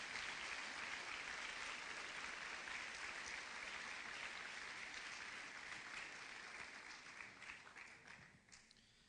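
A church congregation claps steadily in a dense, continuous round of applause offered to Jesus, gradually thinning and fading toward the end.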